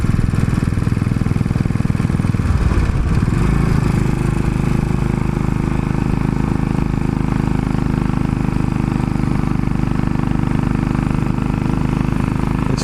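Royal Enfield motorcycle engine pulling steadily uphill, a continuous low thrumming drone with a brief dip and surge in load early on, loud and close throughout with no talking.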